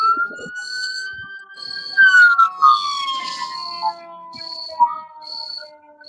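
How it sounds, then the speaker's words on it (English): An ambulance siren outside a house, its wailing tone sweeping steadily at moderate distance for several seconds, with a high insect-like chirping pulsing in the background. "Oh my god, there's an ambulance!"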